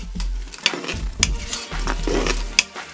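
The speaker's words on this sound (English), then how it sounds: "Going to add our onions in here, stir it up a little bit." Onions sizzle in butter inside a Power Pressure Cooker XL pot while being stirred, with scraping spoon strokes, a few sharp utensil knocks against the metal pot, and a low hum beneath.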